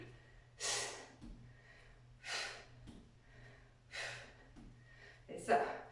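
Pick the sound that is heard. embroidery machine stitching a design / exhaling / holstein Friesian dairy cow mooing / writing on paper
exhaling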